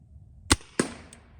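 A crossbow fires a bolt at a target: two sharp, close snaps about a quarter second apart, then a faint third tick, alone against a quiet background.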